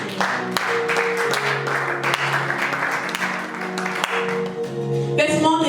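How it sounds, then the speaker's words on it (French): Congregation in a church clapping and cheering loudly and steadily for the Lord, a dense wash of applause over sustained organ or keyboard chords, ending in a swell of music. "Est-ce qu'on peut acclamer tout d'abord pour le Seigneur?"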